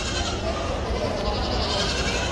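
Highland Ranch dairy goats bleating amid the steady crowd noise of an arena at a national dairy goat show, calls blending into a dense, continuous din with voices throughout.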